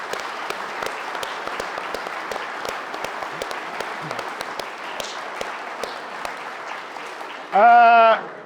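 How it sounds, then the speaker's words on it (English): A large crowd applauds steadily for several seconds at a match fishing national event, a dense wash of clapping, before a voice cuts in loudly at the end. "So biggest round of applause for them."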